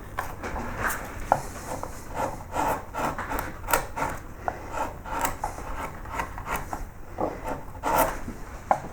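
A flat gouge carves a wooden dog portrait in a steady run of short, rhythmic scraping and rasping strokes, close and moderately loud, with no talking.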